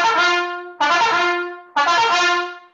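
Three sustained staccato wind-instrument notes, each starting with a sharp attack and fading slightly before the next; bright, clear tone with no voices.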